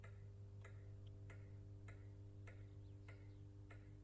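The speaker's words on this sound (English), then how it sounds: "The circuits were cooling down. You can hear them actually ticking." Cooling locomotive circuits give off a steady, regular ticking, about one sharp tick every half second, faint and close against a constant low electrical hum.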